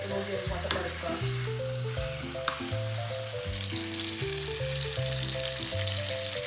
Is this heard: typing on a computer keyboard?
no